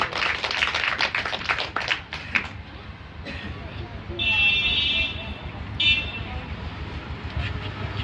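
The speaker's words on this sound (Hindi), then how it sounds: "भाई बताने वाले के लिए भी तालियां हो जाए एक बार" A live gathering at a Shani temple breaks into brief, scattered clapping for a couple of seconds. Quieter mixed background noise follows, with some faint tones.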